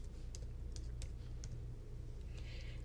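Keystrokes on a computer keyboard typing out a short word, with several distinct clicks in an irregular rhythm over a steady low hum of room noise.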